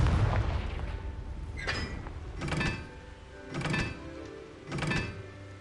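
Confringo fire spell in Hogwarts Legacy, sounding as four evenly spaced, rumbling blasts about a second apart, each a dull boom with a bright crackling burst, after a low rumble at the start.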